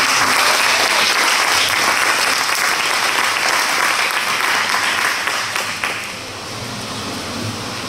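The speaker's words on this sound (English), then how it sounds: "give them a round of applause" A church congregation gives a sustained round of applause for its mission team back from Kenya, loud and dense at first, then thinning and softening toward the end.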